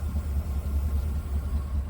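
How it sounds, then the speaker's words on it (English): A 1979 Cadillac Eldorado V8 with fuel injection idles through a newly installed exhaust system, a low, smooth, steady rumble that is quiet and even throughout with no voices. "And how lovely, smooth, and quiet this V8 is under the hood."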